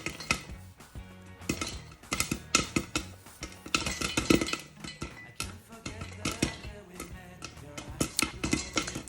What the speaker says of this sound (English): I'm gonna stop talking so you guys can hear the sound of these corns popping